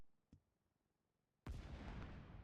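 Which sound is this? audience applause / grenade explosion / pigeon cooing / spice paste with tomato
grenade explosion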